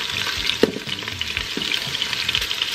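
Pork chunks for carnitas sizzle and fry steadily in a pan, a close, continuous crackle with a few soft stirring knocks and no voices.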